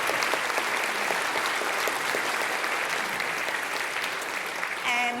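An audience at a tech conference giving a speaker a round of applause, with loud, continuous clapping throughout and a brief voice cutting in at the very end.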